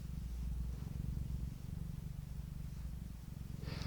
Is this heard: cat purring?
yes